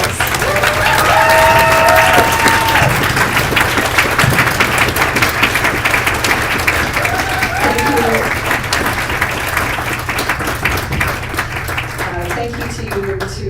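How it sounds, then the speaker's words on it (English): Audience applause for conference panelists at the close of a labor organizing session, a steady wash of clapping from a crowd with some murmured voices mixed in, fading slightly toward the end. "a big round of applause for our panelists"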